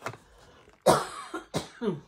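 Two or three sharp, throaty coughs close to the microphone, each a harsh burst separated by brief pauses, with a quiet room otherwise.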